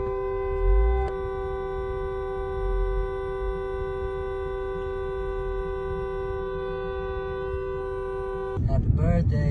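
A car horn sounds one long steady sustained honk for a birthday, held for most of the stretch before a short break and other noise near the end, with voices talking around it.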